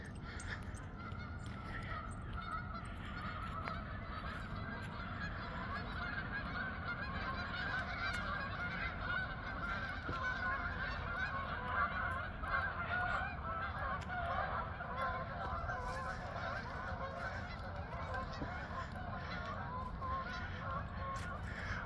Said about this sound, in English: Golf course geese go slowly winging by.